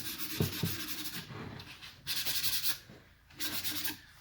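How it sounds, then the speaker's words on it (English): A wooden birdhouse piece is hand-sanded with sandpaper to scuff it before painting, with close, quiet rubbing strokes in an uneven back-and-forth rhythm. "So just sand it out."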